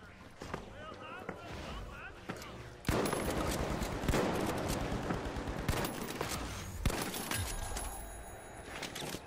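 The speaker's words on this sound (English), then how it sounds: "These guys are shooting at me" Rapid automatic gunfire in a shooter game aimed at the player, who carries a Model 1887 shotgun; bursts of shots crackle loudly across the second half, with sharp single pops earlier, partly under talk.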